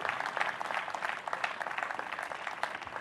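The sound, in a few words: audience applauding as reverend comes to stage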